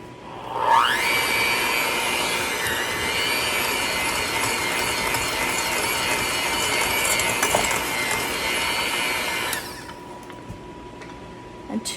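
Electric hand mixer creaming a stick of butter in a mixing bowl, starting up with a rising whine at about a second and running steady and loud until it cuts off near the end, leaving a quiet room.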